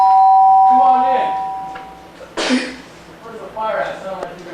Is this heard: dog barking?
no